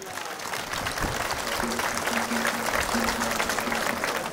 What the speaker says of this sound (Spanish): Fuertes aplausos por Él.